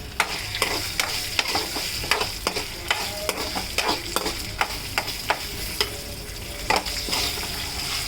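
Curry leaves sizzle and crackle in hot oil in a pan while tempering for mango pulihora, a steady close frying hiss dotted with sharp pops and stirring.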